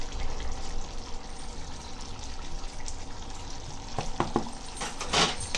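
Ground masala powder being stirred into chicken in a pan, a steady soft scraping and sizzling stir with a few louder clatters near the end, no voices.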